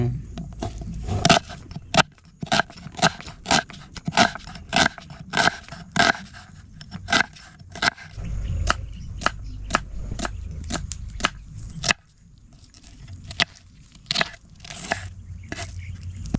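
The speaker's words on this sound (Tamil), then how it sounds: "ஓகே நம்மளால வெங்காயம் வெட்டியாச்சு" A knife chops onions finely on a board outdoors in a forest setting, with rapid, irregular sharp knocks in bursts and a low rumbling background throughout.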